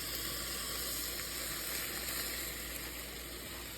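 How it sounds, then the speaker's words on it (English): A steady, hissing sizzle of hot syrup poured onto baklava, continuous and close, with faint crackle and no talking. "oh yes, you can hear it sizzle"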